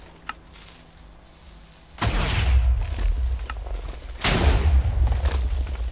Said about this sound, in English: That's the automatic TNT cannon.